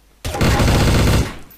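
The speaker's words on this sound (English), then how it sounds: "So we've got a malfunction pistol." Malfunction pistol firing in Garry's Mod Trouble in Terrorist Town, a loud, dense burst of rapid shots lasting about a second, close and overlapping, with no talk over it.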